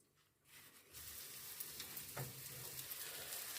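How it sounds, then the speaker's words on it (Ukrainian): Steady sizzling and crackling of pancake batter frying in a pan over very low heat, starting quiet then rising to a constant hiss, close by with no talking. "А смажимо на зовсім невеличкому вогні."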